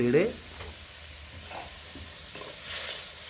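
Pineapple chutney is stirred in a pan with soft scraping strokes and a light sizzle, quiet and close, with a brief voice at the start.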